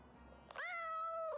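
A game cat gives a single clear meow, rising then holding steady, close and loud after a soft rustle at the start, with no talking over it.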